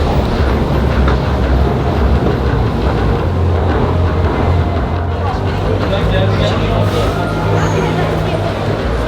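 Ride aboard an Istanbul metro train, with a loud continuous rumble and rattle of the carriage on the rails and faint voices of passengers in the background.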